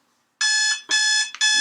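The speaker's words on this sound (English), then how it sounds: "That is the alarm." A quiz alarm goes off as a loud electronic buzzer, sounding in three close bursts, each of the first two lasting about half a second, with nothing else heard.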